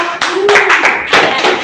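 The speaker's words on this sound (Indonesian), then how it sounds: "Oke, tepuk tangan." A classroom full of students claps on a teacher's cue during a trainee teacher's Islamic studies lesson, a short burst of close, dense applause with talk mixed in.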